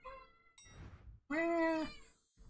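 A cat meows once, a drawn-out, wavering cry rising and falling, loud and close, after some quieter rustling and a brief low murmur.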